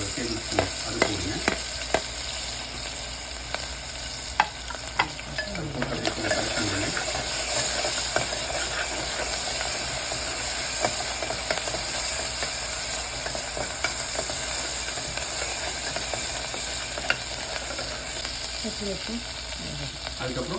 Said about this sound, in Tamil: வெங்காயம் இந்த மாதிரி ஒரு கோல்டன் கலரில் வந்து ஆனதுக்கப்புறம் ஃபஸ்ட்டு வந்துட்டு இஞ்சி பூண்டு பேஸ்ட் எடுத்து வச்சுருந்தீங்கன்னா ஒரு டேபிள் ஸ்பூன் அது போடுங்க